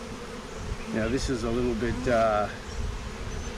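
A honeybee swarm being shaken and tapped from a nuc box into a full hive hums in a steady insect drone, with someone talking over it close by.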